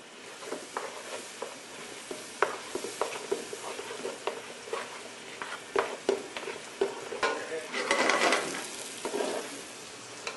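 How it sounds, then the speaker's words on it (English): Flour is stirred into sizzling asparagus, onions and celery to build a soup roux, with soft frying hiss under repeated scraping strokes of a spoon against the pot, steady and close. "just keep stirring it, coat the asparagus with the flour"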